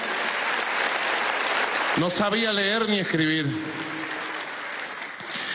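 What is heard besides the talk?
audience applause for María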